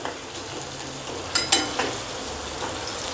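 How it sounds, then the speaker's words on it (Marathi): Onion and coriander seeds sauté in a pan, a soft continuous sizzle with a couple of sharp metallic stirring clinks in the middle, close and fairly quiet. "आपण कांदा छान परतवून घ्यायचा आहे"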